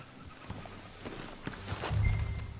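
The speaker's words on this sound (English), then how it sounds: "Let's leave the horses here and go the rest on foot." Horses walking in Red Dead Redemption 2, a few soft, irregular hoof clops on the ground, fairly close, with a low rumble swelling toward the end.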